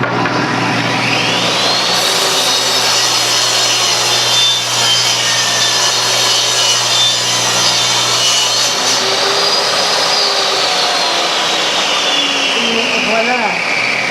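A saw rips a 3/4-inch plywood board lengthwise, a loud, steady whine with a rising pitch that runs for about thirteen seconds and winds down at the end.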